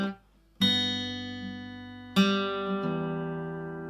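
Acoustic guitar playing the opening bar of a song, with three strummed chords ringing out clearly near the microphone, each left to sustain and decay, with a lighter touch near the end.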